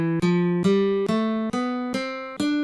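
A D Dorian scale played as single notes: six clear, evenly spaced tones stepping upward, each with a sharp attack and rich harmonics, loud and close with no voice.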